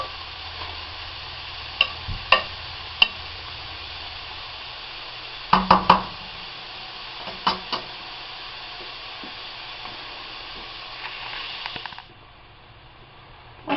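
Onions sweat gently in a pan over low heat for a green bean casserole, giving a soft, steady sizzle throughout, with occasional clicks and clinks of a utensil against the pan. The sizzle drops away near the end.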